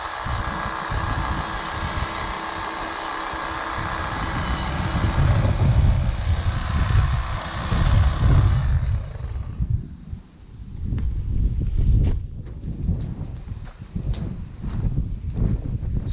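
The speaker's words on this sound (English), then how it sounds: "just wanted to show you how this Husqvarna trimmer, hedge trimmer," A Husqvarna 520iHE3 battery hedge trimmer cutting tall bushes gives a loud, steady whine with the rustle and crackle of branches, then it stops and leaves quieter snipping and rustling.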